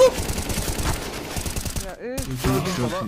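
Shotgun blasts in Counter-Strike: Global Offensive, a dense run of sharp, close game shots with rapid gunfire crackling beneath excited players talking over it.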